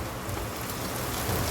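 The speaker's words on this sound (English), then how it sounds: "So it's raining outside." Steady rain falls outside, a dense, even hiss of drops on surfaces with a low rumbling undertone, continuous and fairly loud with no talking.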